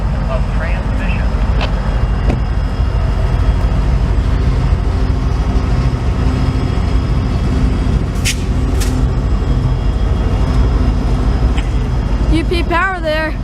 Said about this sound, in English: Next up is a southbound crude oil train with the UP SD70M trailer